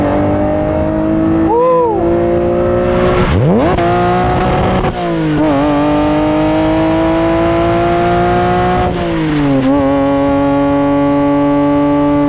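A Ferrari Testarossa 512M flat-twelve engine revs loudly up close, climbing through several strong revs and settling back to a high idle between them, with no voices over it.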